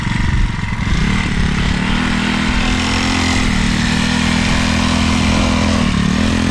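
A small SYX Moto MK40 4-stroke dirt bike engine runs continuously, a loud, close buzzing drone with slight shifts in pitch and no speech.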